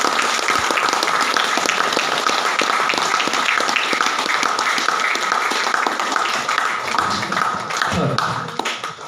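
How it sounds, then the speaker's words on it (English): A room full of people applauding a third-place volunteer award winner, with steady, dense clapping that continues across the whole stretch and loosens a little near the end. "Let's give a good round of applause."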